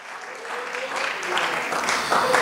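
Church congregation applauds during a Spanish-language sermon, a continuous wash of clapping that builds slightly over a couple of seconds, with a preacher's voice or cheers mixed faintly in.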